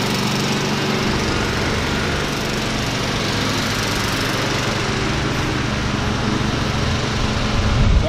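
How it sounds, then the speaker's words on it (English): A chainsaw cutting storm-fallen firewood drones steadily and loudly close by, its engine note holding nearly constant throughout with no pauses. "So I'm gonna put away the chainsaw"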